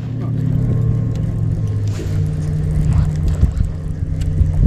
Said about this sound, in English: Airboat. Airboat? That's what it sounds like.